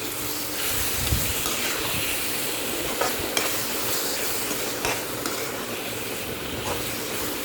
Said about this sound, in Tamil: கிச்சன் கிங் மசாலா மிக்ஸ் ஆகிற வரைக்கும் நல்லா வதக்கி விட்டுக்கோங்க